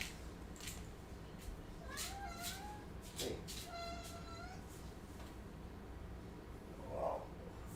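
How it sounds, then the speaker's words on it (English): A cat meows indoors while trying to get into a bathroom, giving several drawn-out, rising and falling meows in a row at moderate volume against a quiet room hiss. "My cat is trying to get into the bathroom."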